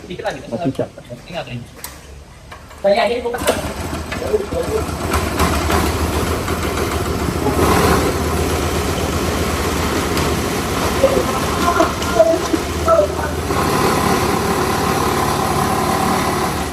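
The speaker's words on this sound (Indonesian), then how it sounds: "setelah kita melakukan pergantian pada karbu, sekarang mesin kompresornya sudah normal" Small air compressor engine runs steadily after a carburetor replacement, starting up a few seconds in and holding an even, buzzing idle, with people talking over it.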